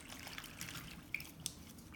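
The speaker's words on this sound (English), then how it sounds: "I'm just going to swish it in this bowl of water." Phalaenopsis orchid roots are swished in a bowl of water, giving soft close sloshing and trickling with a couple of small drip splashes, faint and without talk.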